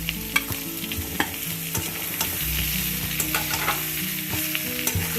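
Eggs and potatoes being stirred in a frying pan, a steady sizzle with a spatula scraping and tapping against the pan at an uneven rhythm, close and fairly loud, with no voices.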